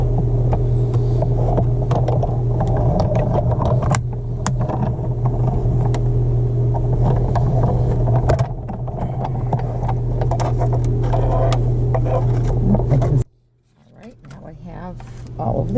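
An electric die cutting machine runs craft pieces through with a steady, close mechanical hum and throb that lasts about thirteen seconds before stopping abruptly.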